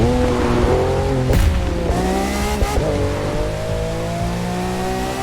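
A Lamborghini Aventador LP700-4 V12 roars in The Crew 2 racing game, the engine note climbing and dropping through shifts with brief sharp bursts, loud and continuous.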